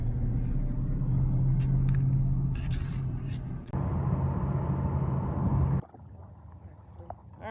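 A 2002 car (the O2) drives the twisting Tail of the Dragon mountain road, its engine and tyre rumble steady and loud inside the cabin, changing level abruptly as it shifts and slows.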